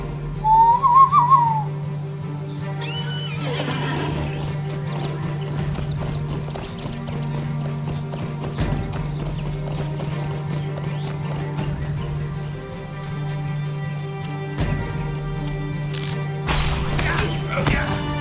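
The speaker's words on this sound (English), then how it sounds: "let's hop on a horse." A horse is summoned and ridden in the online game LOTRO, with a whistle call followed by steady clip-clopping hooves and a whinny over a low constant hum.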